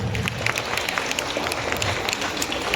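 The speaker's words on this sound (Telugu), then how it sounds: "Please give big claps." An audience at a Bharatanatyam dance event claps steadily and loudly. The many hands blend into a dense, continuous applause with crisp individual claps poking through, and there is no break for nearly three seconds.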